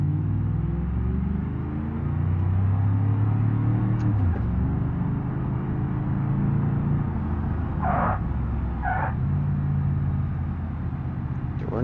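Simulated 1977 Pontiac Trans Am Firebird engine in BeamNG Drive, a steady low rumble holding through second gear, with a brief pitch dip near the middle and a couple of short bursts later, continuous and close.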